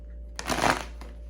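A brief riffle of tarot cards being shuffled, a quick papery flutter followed by a single soft tap, over a low steady hum.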